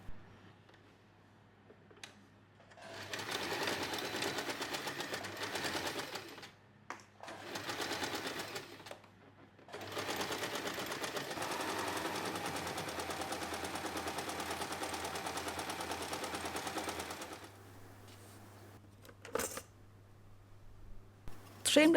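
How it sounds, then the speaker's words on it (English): A sewing machine stitches all the way around a fabric phone pouch with lining, running in three steady bursts of rapid mechanical chatter separated by short pauses, close and fairly loud with no talking. "Sew all the way around, leaving a small opening in the lining fabric."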